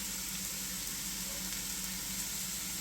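Onions fry in a pan for garlic pasta, giving a steady, fairly quiet sizzle that holds evenly throughout with no voices.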